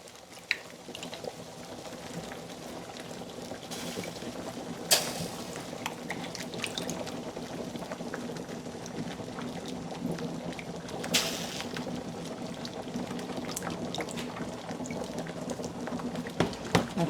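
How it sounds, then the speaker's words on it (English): A pot of Jamaican-style brown stew chicken bubbling steadily, with soft popping and simmering blips and a few sharper pops, close by and continuous. "My pot is bubbling nicely."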